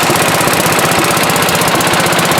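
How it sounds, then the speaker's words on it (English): A 1952 Wisconsin engine runs on a tractor in a shop, a loud, steady, rapid mechanical chugging that stays close and continuous throughout with no talk over it. "The tractor's idling, this is running, that sounds fucking nice. It's a 1952 Wisconsin."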